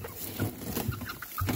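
A few short, close clucks from two-month-old Partridge Chantecler chickens, including a young rooster, separated by brief pauses against a low background.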